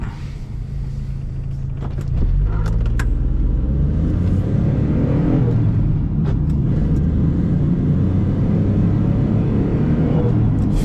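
A 1996 Geo Metro with a 1-liter engine accelerates from low speed, its small engine droning and rising to a steady loud cabin rumble of engine and road noise, heard close from inside.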